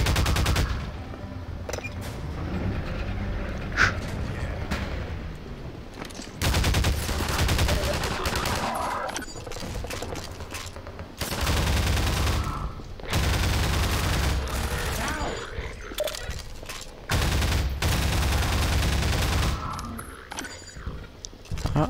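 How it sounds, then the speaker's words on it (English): Bursts of assault rifle gunfire in Half-Life 2, loud and close, coming in repeated rapid volleys with short pauses between, mixed with game effects and impacts. "I'll use the shitty assault rifle then, shall I?"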